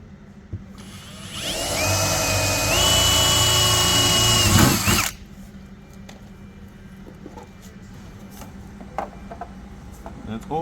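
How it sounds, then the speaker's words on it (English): A power drill bores a hole for fitting a Jungle flare to a 100/105 series Land Cruiser, running loud and steady for about four seconds before stopping abruptly, followed by quiet handling noises. "you want to drill"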